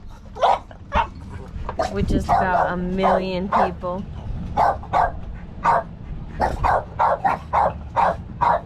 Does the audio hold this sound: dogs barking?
yes